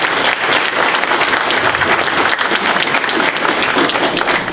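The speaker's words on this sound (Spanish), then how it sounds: "Les voy a pedir que le demos un fuerte aplauso a ellos." Loud, dense applause fills a room at an electoral crimes course, a continuous roar of many clapping hands close by with no let-up and no talk over it.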